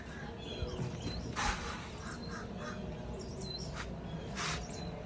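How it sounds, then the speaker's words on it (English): Crows caw outdoors, with two harsh, raspy bursts standing out at moderate distance plus a few fainter calls scattered between them, all over a steady low background hum. "crows that are making noises, singing right now."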